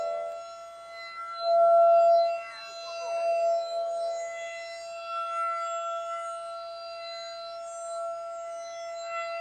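A civil defense siren at a municipal market in Navojoa, Mexico holds a steady, sustained tone, swelling louder for a moment before settling into a continuous distant wail.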